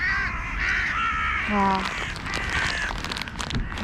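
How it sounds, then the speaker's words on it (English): Birds squabbling at a feeder, harsh crow-like caws and scolding calls overlapping in a brief noisy scuffle, close and loud, with a person exclaiming once amid the commotion. "There's a little bird fight there."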